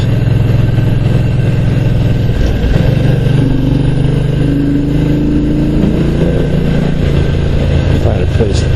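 A 1974 Ducati 750 GT motorcycle, its rebuilt engine fitted with Sport pistons, is ridden on the road, a loud continuous engine drone rising in pitch as it accelerates, with wind noise throughout.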